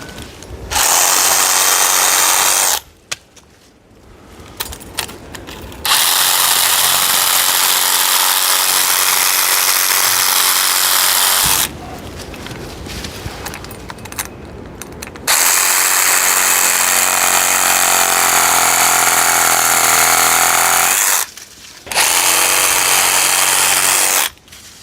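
Reciprocating saw fitted with a chainless Japanese-teeth pruning blade cutting through tree branches outdoors, loud harsh buzzing in three long bursts separated by short pauses with rustling and handling, no talk.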